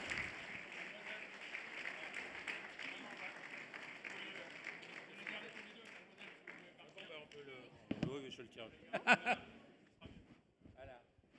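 Applause from the audience at the close of a business summit speech, a dense broadband patter filling the first several seconds and then thinning out into scattered claps and murmured voices near the end.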